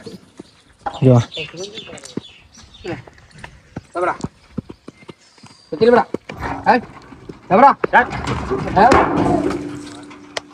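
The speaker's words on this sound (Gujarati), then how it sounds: "ઘોડી લઈને આવી ગયા આપણે બધા" A mare's hooves clop in short bursts close by while people talk, with a few animal calls mixed in.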